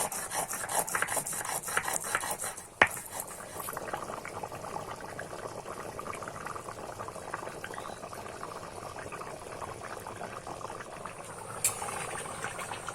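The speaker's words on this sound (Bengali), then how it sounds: "গরম মশলা বেটে নিচ্ছি" Garam masala spices ground into a paste by hand for Kashmiri aloo dum, a steady rasping, rubbing scrape repeating close by, with one sharp knock early on.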